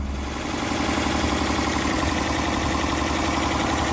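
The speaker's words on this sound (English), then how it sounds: "6-cylinder engine, just tootling away there." The six-cylinder carburettor engine of a 1971 Mercedes W108 280S automatic idles warm with a steady, even drone, heard close and constant throughout without any talk.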